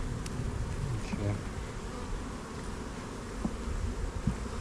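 Honey bees hum and buzz steadily around a queen cage among almond orchard hives, a low continuous drone with a few brief knocks and handling sounds close by.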